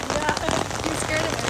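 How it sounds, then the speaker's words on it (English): Heavy rain pounds a surface nearby, a dense, loud patter of drops with no pause. "it's raining pretty hard."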